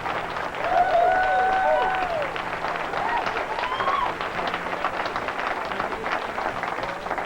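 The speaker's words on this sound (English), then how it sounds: "You need to be clapping for yourself" Audience clapping and cheering at a 1985 business seminar, a loud, dense wash of applause with a few whoops and shouts rising over it, continuing steadily throughout.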